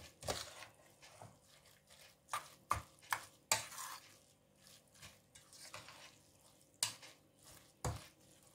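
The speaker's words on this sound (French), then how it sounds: "Donc on mélange bien les oignons et les épices." Onions and spices for Moroccan chicken seffa are stirred in a pan, giving quiet, irregular scraping strokes and soft sizzling, with a few sharper clatters of the utensil against the pan.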